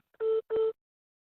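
A telephone sounds two short, identical electronic tones in quick succession for an incoming call, clean and close, followed by silence.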